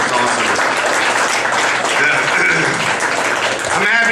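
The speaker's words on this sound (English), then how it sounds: "Give them a round of applause." An audience at a comedy club claps in a dense, continuous burst of applause heard close, with a voice briefly rising over it near the end.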